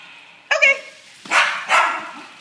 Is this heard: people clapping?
no